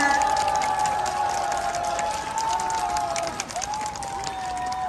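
An audience applauds and cheers for a trot singer at an outdoor autumn festival stage at Hongje Stream's waterfall plaza. Dense crowd clapping runs throughout with sustained ringing tones above it.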